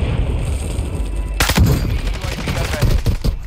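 Sniper rifle shots ring out in a video game match, a few sharp, loud cracks in quick succession over a steady hum of in-game background noise.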